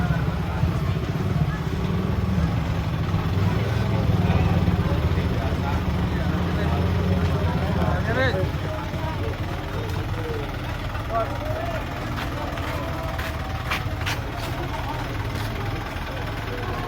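A truck carrying a giant sacrificial cow at Pesayangan, Tegal, its engine a steady low rumble throughout, with crowd chatter and voices over it and a few sharp clicks near the end.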